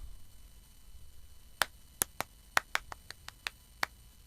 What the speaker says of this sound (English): which is just clapping.